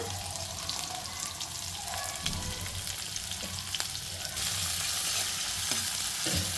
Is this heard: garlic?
yes